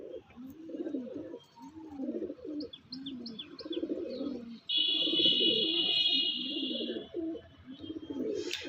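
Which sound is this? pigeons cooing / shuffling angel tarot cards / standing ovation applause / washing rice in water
pigeons cooing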